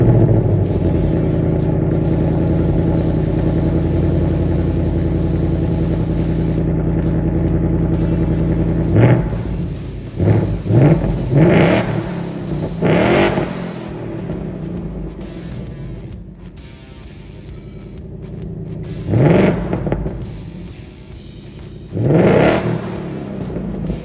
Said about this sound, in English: And that exhaust is so good.